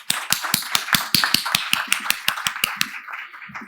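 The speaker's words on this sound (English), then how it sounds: "another round of applause" Audience applause at a conference session: a quick series of sharp, evenly spaced claps, loud and close, fading out toward the end with no talk over them.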